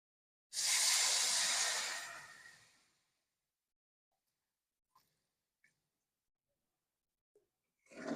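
Water poured into a hot pan of rajma ghugni sets off a sudden loud hissing sizzle that fades over about two seconds, followed by near silence with a few faint clicks and a brief rustle at the end.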